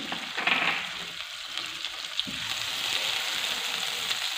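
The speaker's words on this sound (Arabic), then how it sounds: "هنايا عندي في المقله نحط هذه ملعقه صغيره تاع مارغرين" Margarine melts in a frying pan, a teaspoonful for apple croissants, giving a steady broadband sizzle that swells slightly over a few seconds, close and fairly loud with faint stirring scrapes and no talk.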